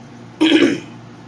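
A single short, rough cough or throat-clear, close and fairly loud, lasting under half a second.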